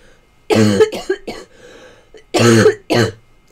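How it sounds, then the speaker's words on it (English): Two harsh bursts of flu coughing, each a quick cluster of hacking coughs, loud and close, separated by a brief quiet pause. "I'm coughing like crazy."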